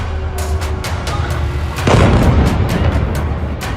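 Artillery fire in war footage: a loud, close boom arrives at mid-clip over a rumbling, noisy battlefield background.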